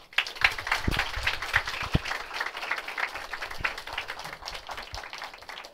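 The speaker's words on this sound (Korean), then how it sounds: "오늘 이 시간 김성원 대표님 나오실 때에 우리 박수로 환영해 주시기 바랍니다." A church audience claps to welcome a speaker at an afternoon service lecture, close and fairly loud individual claps forming a lively, uneven applause that tapers off toward the end.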